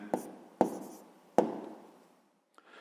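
A pen writes the answer to a sixth-grade math exercise on paper, giving three sharp scratchy strokes at a steady pace followed by a faint tap, close and alone, with no talking.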